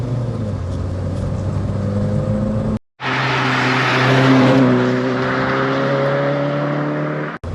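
Peugeot 309 GTI driving over a potholed road, steady loud engine drone and road roar from inside, with a brief sharp dropout then rising engine tone as it pulls on.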